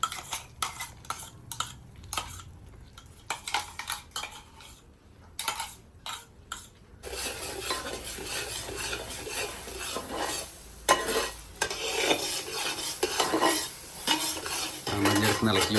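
Mango pulp being stirred into rava kesari in a pan, with steady scraping and clinking of a spoon against metal, sparse taps at first, then continuous close stirring with a faint sizzle beneath.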